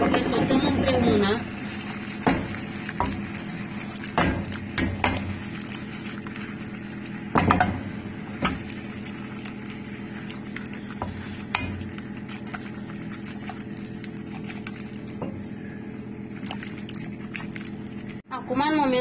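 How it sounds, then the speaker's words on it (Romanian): Gnocchi and cherry tomatoes sauté together in a pan, a steady sizzle punctuated by occasional clanks and scrapes of a utensil, with a voice talking over the cooking. "Care gnocchiile s-au ridicat deasupra, le transferăm în tigaie. Am adăugat toate, le sotăm împreună."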